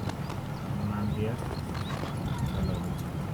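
A horse in the Red Dead video game clip-clops on its hooves and gives a neigh, blended into a dense, steady bed of game ambience.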